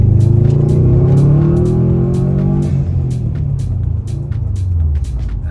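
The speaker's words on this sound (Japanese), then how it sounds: "そのボクサーエンジンの形の独特なサウンド。" A Subaru WRX STI boxer engine rumbles steadily with a deep low throb, loud and close, its tone shifting slightly as it idles and revs.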